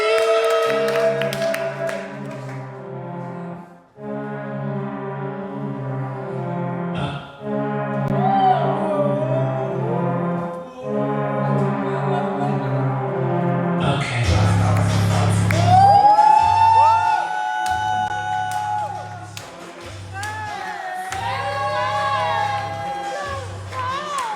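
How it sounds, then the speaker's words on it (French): An audience at a Met Gala-themed fashion show applauds and cheers, with whoops and shouts building in the second half over music and voices that speak throughout. "Merci d'applaudir Choukri."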